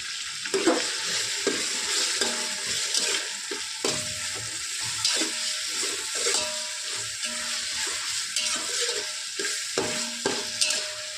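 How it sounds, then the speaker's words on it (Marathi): Masala for mutton biryani is stirred and roasted in a pot, with a steady sizzle under frequent scraping strokes of a spoon against the pan, close and continuous, no talking. "छान छान लालसर भाजून घ्यायचं आपल्याला पाच मिनटं लागेल"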